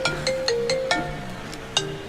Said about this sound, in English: That's a phone call.